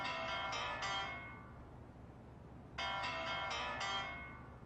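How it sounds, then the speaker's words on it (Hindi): A phone ringtone plays two short melodic bursts separated by a pause, fairly quiet against a faint background hiss. "ये किसका फोन बज रहा है?"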